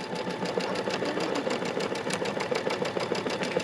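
An embroidery machine quilting fabric held in a magnetic hoop, running steadily with a fast, even stitching chatter and a mechanical hum, close and unbroken, with no talk.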